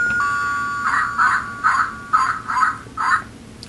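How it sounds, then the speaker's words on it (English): A toy doorbell on a Lego 5771 Hillside House set rings with a series of six bright electronic chimes in quick succession over faint background hiss. "We'll start with the doorbell because that's unique to this set."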